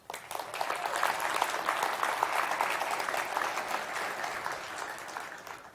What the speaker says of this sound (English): give these groups a round of applause for making this possible.